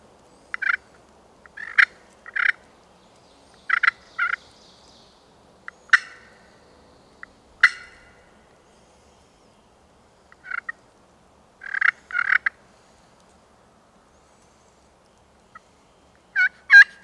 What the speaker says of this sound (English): there's enough birds gobbling